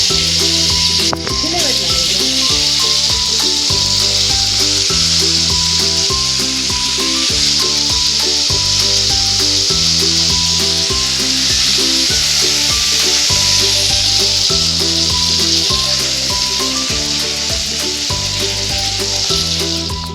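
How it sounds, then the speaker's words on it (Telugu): Eggs fry in hot oil in a kadai, giving a steady, continuous sizzle under loud background music with no pauses. "గుడ్లు ఫ్రై చేసుకోవాలి. అందుకే నూనె వేసుకుందాం."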